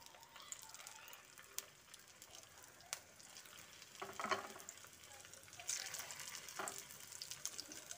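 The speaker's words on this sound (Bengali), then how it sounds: "তারপর তেলটা গরম হলে বড়াগুলো একে একে তেলের মধ্যে দিয়ে দিচ্ছি। আমি এই বড়াগুলো শ্যালো ফ্রাই করছি" Bitter gourd fritters shallow fry in hot oil with a faint, steady sizzle and crackle, a few soft clinks rising over the bubbling now and then.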